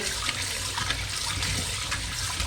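Tap water runs steadily as meat is rinsed in a home kitchen, a dense close-up gush and splash that holds level throughout.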